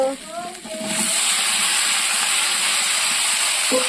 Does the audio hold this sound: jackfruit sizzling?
yes